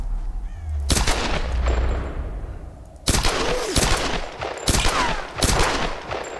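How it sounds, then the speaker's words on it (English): Gunshots in the video game Tomb Raider, fired at a puddle of gas, several loud sharp reports with booming echoing tails, spaced a second or so apart. "I'm just shooting a puddle of gas"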